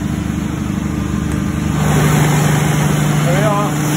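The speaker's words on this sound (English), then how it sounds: "There we are, there's the generator running away." A generator engine at an anaerobic digestion plant runs with a steady low rumble that grows louder and fuller partway through, while a person talks over it.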